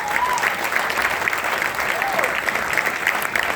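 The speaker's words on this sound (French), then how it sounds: "j'aimerais vraiment que tout le monde acclame cela pour notre pays" Applause from an audience at a film screening, a dense sustained wash of clapping filling the room from start to end, loud and even, with a few faint cheers mixed in.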